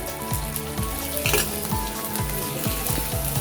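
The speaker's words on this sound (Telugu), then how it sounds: "అవి వేగిన తర్వాత మనం కట్ చేసుకున్న పచ్చిమిర్చి" Chopped green chillies fry in hot oil alongside cumin for a lentil tempering, a continuous close, loud sizzle and crackle with scraping stirs.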